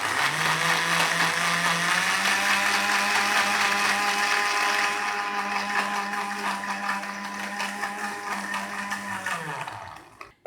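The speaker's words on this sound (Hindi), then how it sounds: "अब फिर थोड़ा सा और ब्लेंड कर लेते हैं" An electric blender whirs steadily for about ten seconds, mixing a walnut and date shake with milk, then winds down and stops at the end.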